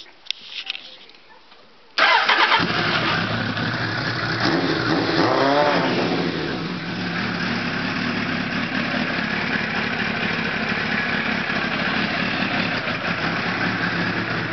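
A hybrid car engine fitted with a new exhaust restarts: after a couple of faint knocks the engine catches abruptly and settles into a loud, steady rumbling idle that continues close by with a slight swell in revs.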